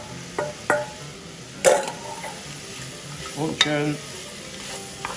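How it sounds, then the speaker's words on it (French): Mirepoix of onions, carrots, cabbage and celery frying in a pot for beef ragout, stirred with several sharp scraping clatters over a steady sizzle, with brief talk partway through. "Une fois qu'on a bien gratté le fond, hop, on met la Mirepoix."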